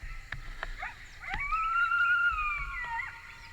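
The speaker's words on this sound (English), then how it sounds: "Start off with some pup howls." Coyote pup howls played from an electronic predator call in the woods during a coyote hunt, a few short yips followed by a long rising and falling wavering howl, clear and fairly loud outdoors.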